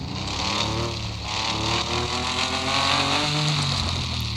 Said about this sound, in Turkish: Arabalar çok güzel ses çıkarıyor ya.